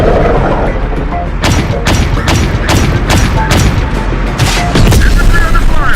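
Gunfire in the Terminator Dark Fate Defiance video game: a string of sharp, loud shots cracks at irregular intervals over a rumbling battlefield din, with booming impacts and indistinct unit voices mixed in.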